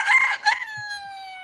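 A rooster gives one short, close cock-a-doodle-doo: two choppy bursts, then a long held final note that slowly trails off, heard alone without talk.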